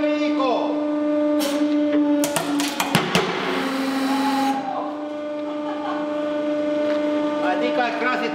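Loud crunching and cracking bursts as a microwave-safe plastic item is crushed in a hydraulic press, over a steady mechanical hum with brief sharp snaps midway.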